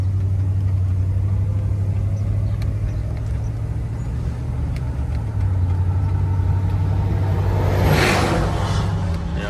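A 1975 Buick LeSabre convertible with its 350 V8 runs while driving with the top down, a steady low engine hum and road rush throughout, fairly quiet, with a brief rise in wind noise near the end.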